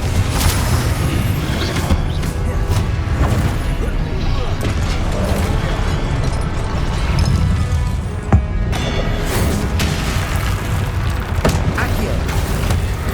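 Repeated Confringo blasting-curse explosions in the video game Hogwarts Legacy, crashing impacts and booms recurring throughout amid continuous spell-combat effects, with a sharp blast standing out near the middle.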